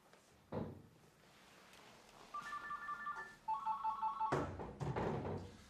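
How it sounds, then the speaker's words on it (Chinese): A mobile phone rings unanswered indoors, its electronic ringtone sounding in repeated bursts of tones, moderately loud, with a few thumps and household clatter around it and no talking. "这个周海东怎么不接手机呀？"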